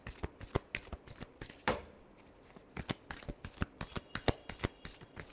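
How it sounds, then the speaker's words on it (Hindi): A deck of tarot cards is shuffled by hand in a quiet room, a series of crisp riffling and slapping bursts in an uneven rhythm, close and fairly soft, with no voices. "लियो के लिए लास्ट शफल।"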